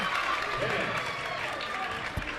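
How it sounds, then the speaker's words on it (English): A loud crowd fills the gym at a high school basketball game, a dense, steady roar of cheering and shouting that holds throughout, with a faint voice underneath. "Very loud crowd we have here tonight."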